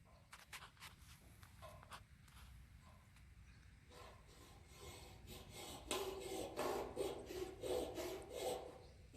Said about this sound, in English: So normally when you're using a hacksaw, you do like he's doing now with nice long even strokes